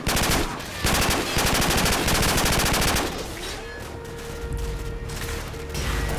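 Automatic weapon fire in Call of Duty 4 rattles in fast, loud, close bursts for about three seconds. Mechanical clatter and scattered shots follow at a lower level, and another burst comes near the end.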